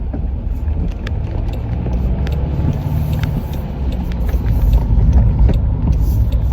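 Inside a Land Rover Defender 110 D240 going around a roundabout: a low, steady engine and road rumble that rises slightly, with faint ticks and rattles and no speech.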